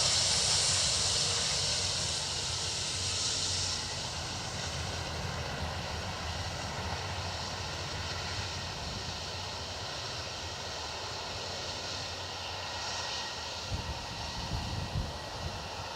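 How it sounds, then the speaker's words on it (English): An Aer Lingus Airbus A330 jet arriving at Dublin Airport from Denver makes a steady engine roar with a high whine early on, easing to a sustained rumble, with no speech. "Aer Lingus A330 from Denver"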